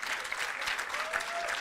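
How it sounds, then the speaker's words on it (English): Audience applause at the Pan African Universities Debating Championship in Kampala, a steady dense clapping from a large crowd sustained throughout, with a faint voice barely audible beneath. "Let's give all of you a round of applause for making it to Uganda"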